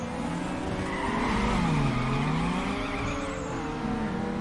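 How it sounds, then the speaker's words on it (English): A car engine in Need for Speed Underground 2 revs hard through a race, a steady loud drone whose pitch climbs and falls with overlapping tire squeal, with no talk. "Over rev slightly. Over rev again."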